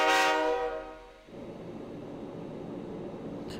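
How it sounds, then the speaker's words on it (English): Passenger train in the Persona 3 Portable game: a loud, brassy horn blast with stacked harmonics opens, then fades into a steady rumbling roll of rail cars that carries on to the end. "Inside the new city passenger train"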